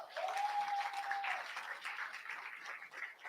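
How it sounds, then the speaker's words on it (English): Audience applause at a leadership fellowship launch event fills the hall as a moderator walks on stage, steady dense clapping throughout with a brief high tone near the start. "A round of applause."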